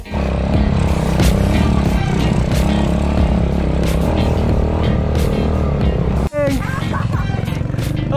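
Motorcycle engine labouring loudly and continuously on a steep, rough mountain trail toward a hiking start point, revving hard under strain, with a brief cut-out near the end and people talking over it.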